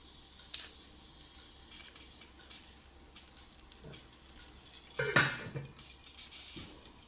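Curry leaves hit hot oil and sizzle with a soft, steady hiss, broken by a few sharp clinks of a utensil against the pan.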